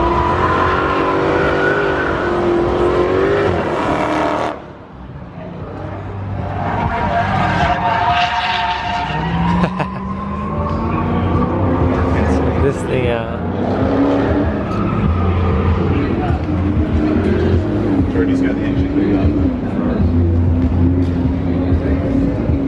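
A Ferrari 488 GTB on a hot lap at Exotics Racing in Los Angeles roars loudly and continuously, its engine rising and falling through gear changes and drifting, with a brief dip in volume early on and people talking faintly beneath.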